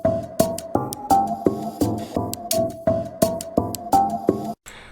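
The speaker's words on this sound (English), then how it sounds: "this percussion loop that's almost got like quite a tonal quality to it" A tonal percussion loop in Cubase, heard dry with no insert effects, repeats a steady pattern of sharp hits. Each hit rings with a pitched, hollow tone, close and clear, and stops abruptly near the end.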